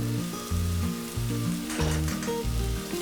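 Onion, green chilies and ginger garlic paste fry for a curry leaf chicken curry, a steady close sizzle under loud background music.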